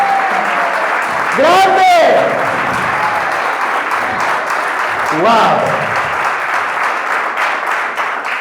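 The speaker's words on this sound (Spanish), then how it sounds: "Dale el aplauso si vos lo querés." Church audience applauding during a sermon, steady broadband clapping throughout with voices calling out and cheering over it.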